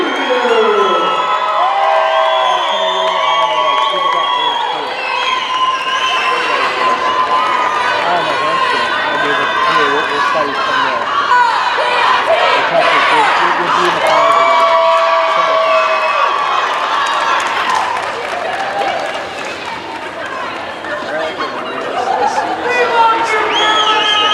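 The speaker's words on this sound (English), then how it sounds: "Let's give another round of applause for the Brew City Bruisers Beer Leaders" Spectators at the BrewHaHa 2018 game, BCB All-Stars vs Kalamazoo Killa Stars, cheer and chatter for the Brew City Bruisers Beer Leaders. The crowd noise is dense and continuous, with scattered whoops and shouts, and dips slightly near the end.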